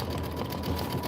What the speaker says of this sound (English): This is satin stitching.